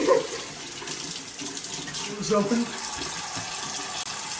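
Tap water runs steadily into a bathroom sink during a face-rinsing skincare routine, a continuous mid-level splash under a brief spoken word.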